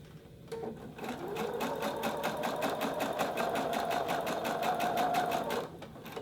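A sewing machine runs a steady, even stitching burst for about five seconds while attaching foldover elastic to a collar; the rapid, regular needle clatter is close and loud, with no talking.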